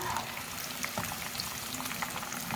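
Chicken nuggets frying in oil over a medium flame, a soft, steady bubbling and crackle that stays faint and even throughout, with no talking.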